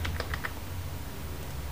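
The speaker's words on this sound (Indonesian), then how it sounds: "Kode barangnya kita ketikkan." Someone types an item code on a computer keyboard, giving a quick cluster of four or five close key clicks. A steady low room hum continues underneath and carries on after the keys stop.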